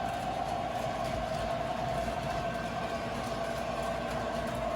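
A Menards model train at a coal loading station runs with a faint, steady electric whir and a thin sustained hum over a soft low rumble, unchanging throughout, with no voices.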